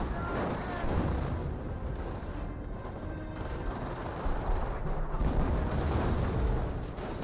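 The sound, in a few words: MG42 machine gun fire in video game Company of Heroes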